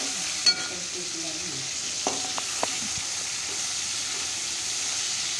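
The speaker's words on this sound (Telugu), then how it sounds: "కొంచెం ఫ్రై అయిన తర్వాత లైట్ గా ఉడికిన పప్పు ఉంది కదా ఇందాకది, అది దీనిలో యాడ్ చేసుకొని మొత్తం బాగా మిక్స్ చేసుకోవాలి" Dal bati mixture fries in a pan and is stirred, a steady close sizzle with a few sharp scrapes and knocks of the spoon against the pan.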